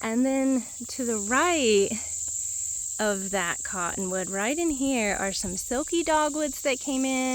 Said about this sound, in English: there's a bunch of cicadas singing in that tree